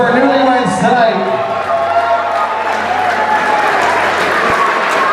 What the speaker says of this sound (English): how about another big round of applause for our newlyweds tonight?